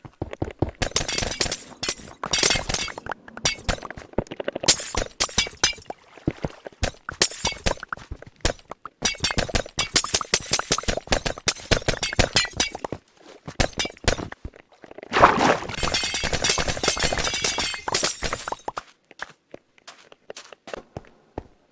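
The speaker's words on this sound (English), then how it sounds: "I need normal ice so it actually spills out water when it's broken" Ice blocks broken one after another in Minecraft, a series of crisp glassy shattering and crunching hits in quick clusters, interspersed with blocky footsteps and short pauses, loudest in a burst near the end.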